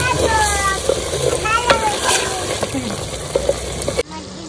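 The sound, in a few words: stirring chicken in a clay pot with a wooden spatula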